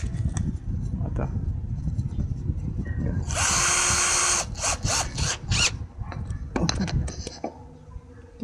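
A power drill drives a screw in a Filipino home repair job, a steady loud whir running about a second, then several short bursts as the screw seats, with background noise and voices before and after.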